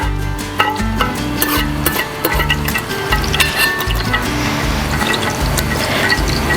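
A spoon stirs fenugreek and cumin seeds in a pan for Andhra-style pandugappa fish curry, with soft scraping and light metallic clinks close by over a steady background of tonal music.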